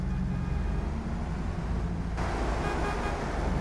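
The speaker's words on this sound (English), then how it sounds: "I just want to honk." Vehicle horn on a farm vehicle in Farming Simulator, a sustained honk over steady engine and road noise that cuts off partway, leaving the rumble to continue alone.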